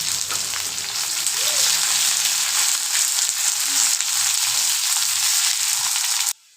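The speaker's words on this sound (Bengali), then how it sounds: "পেঁয়াজটা এখন ফ্রাই করে নেব।" Chopped onion fries in hot oil with cinnamon, cardamom, dried chillies and bay leaf, producing a loud, continuous sizzle that cuts off abruptly at the end.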